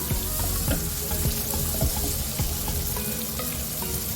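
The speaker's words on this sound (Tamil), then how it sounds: "அவ வந்து இருக்கிற மீதி வெங்காயத்தையும் போட்டுட்டா அதை ஃப்ரை பண்ணிக்கிறாங்கன்னா" Chopped onion fries in a pan while a Kadai Paneer dish is being cooked, giving close, steady sizzling and crackling with scattered sharper pops and no talk.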